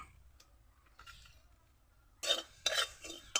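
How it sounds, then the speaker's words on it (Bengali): A few short bursts of dry scraping and rattling of cumin seeds being stirred in a hot dry pan, after a quiet start. "দুটো জিরে আমি ভেজে নেব শুকনো খোলায়"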